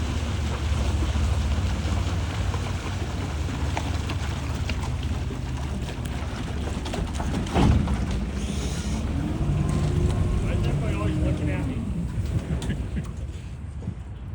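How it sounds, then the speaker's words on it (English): A boat crossing a lake toward Willow Island, a low continuous engine rumble mixed with wind and lapping water, steady and fairly loud, with a brief thump partway through and the motor tone rising as it nears. "Here comes the boat"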